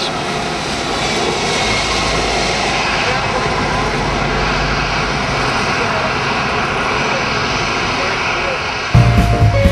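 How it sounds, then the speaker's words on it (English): A Delta airliner arriving at Manila airport roars steadily and loudly from the airport fence at night, a constant engine drone that cuts off abruptly near the end, with voices faintly mixed in. "we filmed the nightly arrival of our own Delta flight arriving from the U.S."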